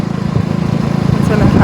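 A two-wheeler motorcycle on a country road, its engine putting out a steady low pulsing throb while a rider talks over it close by.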